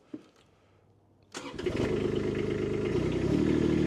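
A loader's diesel engine cranks after a quiet lull, catches with a sudden burst and settles into a loud, steady idle close by.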